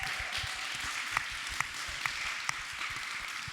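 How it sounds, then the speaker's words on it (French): A festival audience gives a round of applause, soft distant clapping from a crowd with a few sharper claps standing out at regular intervals. "Donc nouvelle salve d'applaudissements"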